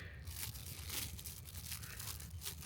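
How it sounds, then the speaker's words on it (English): A tiny pair of flimsy survival-kit scissors snips through thin plastic, giving faint repeated crisp tearing and crinkling cuts close up with no voices. "Got a tiny pair of very flimsy scissors. I wonder if they'll cut anything."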